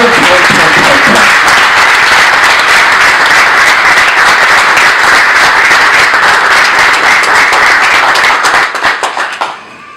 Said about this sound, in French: je vous demande à l'applaudir très,